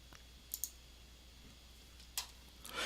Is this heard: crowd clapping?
no